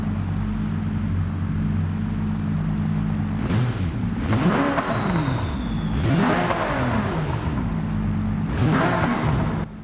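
A Toyota Supra MK4 with a turbocharged 2JZ engine in BeamNG Drive revs repeatedly, rising and falling in sharp sweeps to a high pitch with a turbo whine over a steady idle hum.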